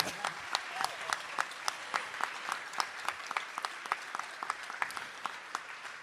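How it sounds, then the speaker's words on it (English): Applause from a modest crowd at a labor organizing event, a dense patter of clapping with sharp individual claps audible throughout, steady and fairly close, no talking. "we should clap for them"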